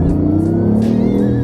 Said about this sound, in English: Like, you can hear like the battery and the engine kind of working together